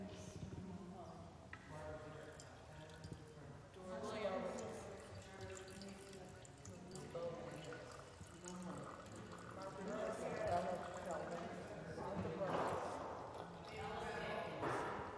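Water poured as a libation during an opening ritual at a gathering, a soft running trickle like a tap or sink heard under murmuring voices and calls throughout.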